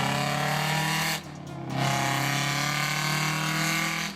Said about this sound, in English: 8V71, and later 8V92 engines screamed like banshees